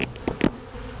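Honey bees buzzing close by during a November hive removal, sharp bursts of loud buzzing over a low steady hum of the swarm, with no talking.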